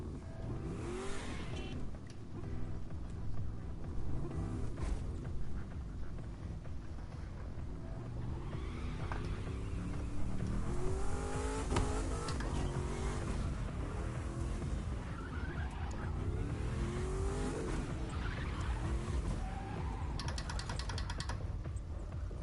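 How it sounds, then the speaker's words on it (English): A supercharged car engine in the video game The Crew 2 revving and accelerating continuously, with a rising supercharger whine and gear changes, loud and close throughout. "Do you guys hear that supercharger?"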